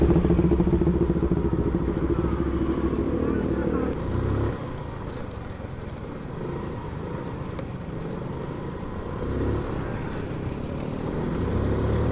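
A Benelli Panarea 125 motorcycle engine idles and revs nearby, a rough low rumble that rises and falls, with some clatter in the background.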